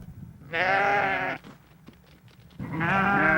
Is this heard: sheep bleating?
yes